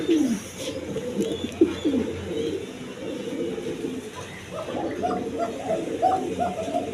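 Red Lahori pigeons coo repeatedly inside a large cage, their low rolling calls overlapping in a steady chorus with a few sharper chirps near the end.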